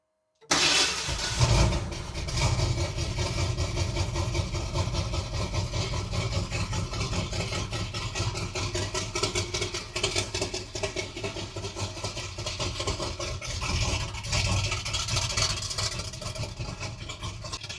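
An old 1978 Ford Bronco engine cranks and catches after a brief silence, then settles into a loud, rough, steady idle that rumbles on close by.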